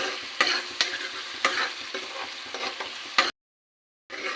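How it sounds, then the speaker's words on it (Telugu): Onion pieces sizzle and fry in a pan while a spoon stirs them, giving repeated sharp scraping knocks over a steady crackle, then a short silence before the frying resumes. "ఈ ఉల్లిగడ్డ ముక్కలు కొంచెం దూరగా వేగేంత వరకు కూడా మనం వేయించుకోవాలి"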